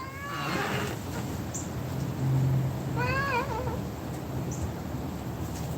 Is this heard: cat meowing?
yes